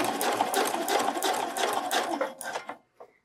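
A sewing machine runs steadily, stitching eye tape along the raw edges of a bralette, with a fast dense whir that slows and stops near the end, followed by a brief mechanical click.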